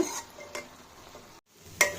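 Snake gourd and chana dal stir-fry in an oil tempering, with a soft steady sizzle broken by a few sharp scrapes of a spatula against the pan.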